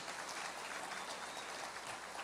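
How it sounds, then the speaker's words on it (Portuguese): Audience applause during a sermon: steady, dense clapping that holds evenly for the whole moment, heard from a distance and fairly faint, with no talking. "não dá para você dar uma salva de palmas para esse texto?"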